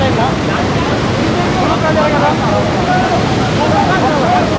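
Water rushes from opened reservoir gates released into the Penna River, a loud, continuous roar that fills the scene. Voices may sit faintly beneath it.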